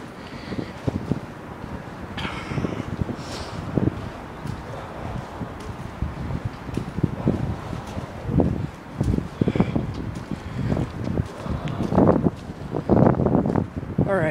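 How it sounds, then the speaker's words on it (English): Wind buffeting a microphone outdoors at a construction site, continuous rumbling gusts with rustling bursts, loud and close, with faint talk underneath. "Sorry about the wind."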